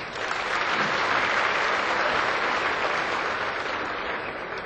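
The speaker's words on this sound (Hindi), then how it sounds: "एक बार जोरदार तालियां हो जाए।" A large audience claps vigorously at a Hindi comedy poetry gathering, a dense, continuous roar of hands lasting several seconds and fading slightly toward the end.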